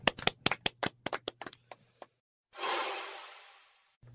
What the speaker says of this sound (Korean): 그 어린이에게 박수를